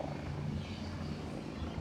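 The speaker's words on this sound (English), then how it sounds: "That helicopter's coming right over me." A helicopter passes overhead in a city, its steady rotor drone and engine whine filling the air at moderate loudness, fairly close, with no talk over it.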